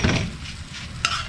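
Soup stirred in a pan, a brief close sizzling swish with one sharp utensil scrape near the end.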